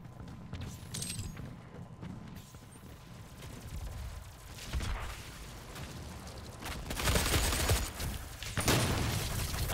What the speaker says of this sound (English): I gotta shoot him and then pull out my shotgun.